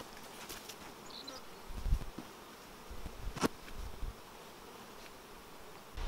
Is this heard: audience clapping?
no